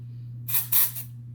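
Two quick hissing bursts from an aerosol can of dry shampoo sprayed onto hair roots, close by, over a faint steady hum.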